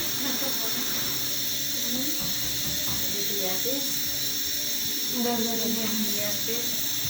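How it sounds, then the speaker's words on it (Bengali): Coconut-filled puli pitha frying in oil gives a steady, hissing sizzle that runs through the whole stretch, with faint voices murmuring underneath. "দেখুন এখন এটা আমরা তেলে ভেজে নিব এটা এখন তেলে ভাজবো"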